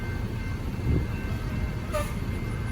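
A long, empty northbound freight grain train rumbles past steadily at a moderate distance, low and continuous, with a brief brighter burst of rail noise partway through.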